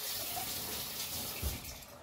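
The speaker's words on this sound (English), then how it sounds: "You're going to put it in the sink and fill it with water" Tap water runs into a used canning jar sitting in a kitchen sink, a steady close hiss of filling water with a slight splash partway through.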